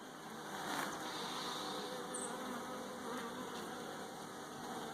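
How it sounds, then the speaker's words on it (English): Bees from a package-versus-nuc hive comparison buzz steadily around an opened hive, a continuous close drone that holds even throughout, with no talking over it. "That won't hurt the bees though."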